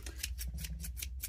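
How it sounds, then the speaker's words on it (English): Scissors snipping through tin foil, about eight quick crisp cuts in a steady rhythm, close and quiet over a low hum. "actually cutting tin foil with your scissors will sharpen your scissors"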